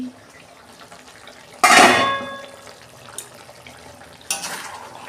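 Lid lifted off a pot of chicken curry, a bright metallic clatter and scrape close by, then a sizzling hiss that fades, followed later by a quieter clink and another short rustle, with no talk.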